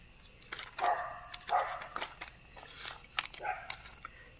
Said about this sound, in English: My neighbor's dog has come in.